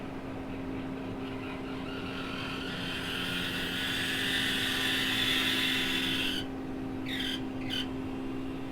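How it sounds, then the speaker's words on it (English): A farm hedge trimmer cuts a hedge with a steady, droning engine and rotor hum that holds throughout, and a brief whine fades in and out near the end. "Got a bit of a noise coming from the rotor on the hedge trimmer."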